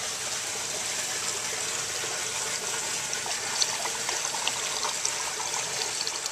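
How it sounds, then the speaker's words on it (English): A bell siphon drains a 40-gallon sump tank on a 15-minute fill cycle. Water trickles and gurgles continuously at a moderate, steady level, with a few faint splashes. "We're running about a 15-minute fill, and we're using a 40-gallon sump tank."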